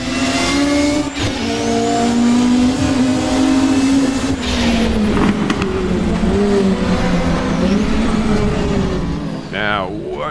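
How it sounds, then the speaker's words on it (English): A tin-top race car engine in Assetto Corsa revs hard and continuously, rising and falling in pitch through gear changes, loud and close, with a brief high tonal sweep near the end. "Car's feeling nimble underneath me."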